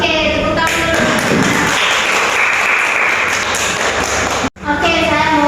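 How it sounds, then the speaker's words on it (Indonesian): Students clap together in a classroom during a microteaching lesson, a dense burst of applause that runs for several seconds, stops abruptly, then gives way to a voice speaking. "Oke, tepuk tangan dulu."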